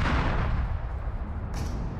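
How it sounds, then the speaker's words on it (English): Gunfire in the video game Super People: a dense, heavy barrage of booming shots packed together into one continuous loud roar for about two seconds, with a brief brighter crack near the end. "I'm getting shot at."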